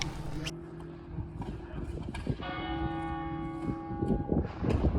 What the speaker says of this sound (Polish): Walą w dzwony